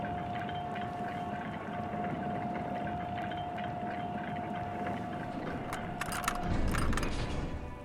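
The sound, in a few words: rusty water lock mechanism starting to move, from video game Disco Elysium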